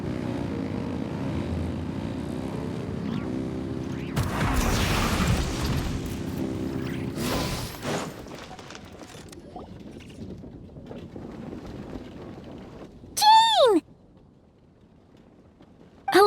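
Deep, steady roar of aircraft engines in the video game Genshin Impact, a broad sustained rumble with a louder surge midway, then fading into quieter ambience before brief bright chiming tones near the end.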